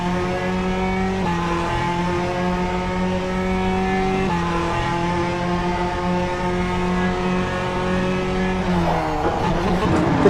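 A hypercar in a racing video game at Road America holds a loud, steady engine drone with stepped pitch changes as it shifts gears, ending in a brief burst of rising revs, with no talk.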